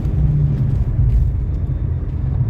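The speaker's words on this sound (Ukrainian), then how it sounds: "Так, Їдемо, тестуємо коробку. Так. Давайте сразу з другої на четверту." A Chevrolet Lacetti under way during an automatic gearbox test, shifting from second to fourth: a steady, loud, close low engine and road rumble inside the cabin, with no talk.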